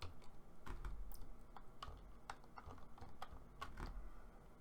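Code is typed on a computer keyboard in a steady run of soft, close keystrokes at an uneven pace.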